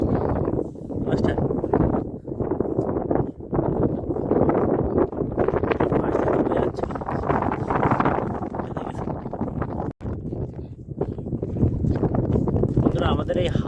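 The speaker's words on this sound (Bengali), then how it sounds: "আমাদের এই হাওয়ার জন্য কিন্তু নৌকায় হাওয়া আসছে, আর এই প্রচুর স্পিডে বসে যাচ্ছে" Strong wind buffets a fast-moving fishing boat in the Sundarbans, a continuous loud roar and rumble across the whole span with gusting surges and one brief dropout, while a voice talks over it.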